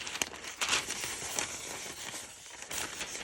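Flimsy white tissue paper crinkles and rustles as it is handled close by, soft crackling bursts coming and going quietly with no talk over it.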